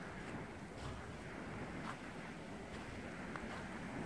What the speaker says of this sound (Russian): Ну, что у нас здесь? Ветер.